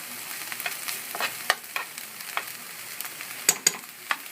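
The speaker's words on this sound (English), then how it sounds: "So I've just added the celery. Just going to mix that up." Celery stirred through a hot pan for a ground turkey omelette, giving a soft, steady sizzle with irregular scraping and tapping strokes close by, and no talking.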